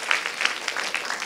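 Lecture audience clapping hands together in a short burst of scattered, fairly close applause lasting just over a second.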